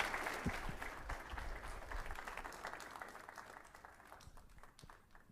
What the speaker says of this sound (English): Have another round of applause for Ari Berman, please.